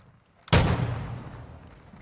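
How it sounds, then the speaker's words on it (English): A single loud gunshot from enemies firing on the players in a co-op shooter game cracks out suddenly, then rumbles and fades slowly over the next second and a half, with no voices. "Oh, they're shooting us."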